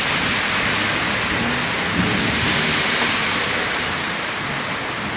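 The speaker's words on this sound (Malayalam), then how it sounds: "ഇവിടെ നല്ല മഴ കേട്ടോ" Heavy rain falls in a dense, unbroken roar that stays steady and loud throughout, with no voices.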